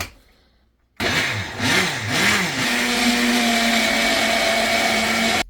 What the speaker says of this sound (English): in the blender and blend them up